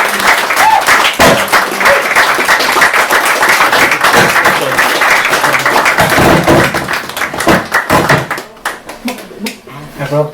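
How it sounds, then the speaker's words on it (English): Audience applause at a guest poetry reading event: dense, loud, sustained clapping from a crowd for about eight seconds, then thinning out to scattered claps as it fades. "Can we give one more round of applause for Richard, please?"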